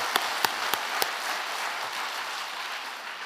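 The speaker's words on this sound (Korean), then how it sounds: "박수도 한번 칩시다." A congregation at a church winter camp dawn service claps, with a few distinct claps at the start and then a steady, fairly quiet wash of applause that fades slightly toward the end.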